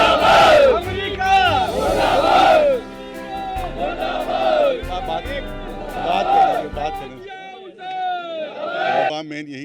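Protest crowd in Lucknow chanting anti-America slogans in support of Palestine, loud massed voices rising and falling in rhythmic waves, with a single voice calling out near the end.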